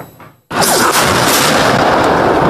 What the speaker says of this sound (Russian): На этих кадрах крупнокалиберный снаряд, выпущенный из миномета, накрывает несколько человек.